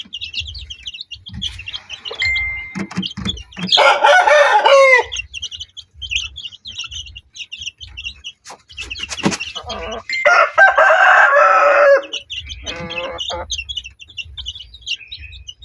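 Newly hatched chicks chirp in a steady high twitter while being fed a corn and mixed-feed mash, with louder bursts of clucking and crowing from adult chickens nearby; no one speaks.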